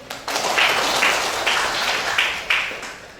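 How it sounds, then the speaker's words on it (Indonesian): A classroom of students claps hands together in a steady burst of applause, fairly loud and close, with rhythmic pulses running for about three seconds. "Tepuk tangan."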